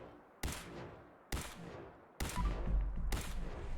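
Four heavy gunshots in Fallout 4, each a sharp loud crack spaced about a second apart, the later ones followed by rumbling debris and a lingering low boom with no voices.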